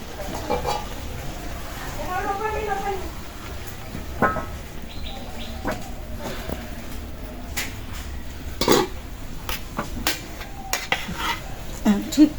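Food is flipped and stirred in a hot pan while breakfast is cooked. Scattered clinks and scrapes come under people talking, with a chicken clucking nearby.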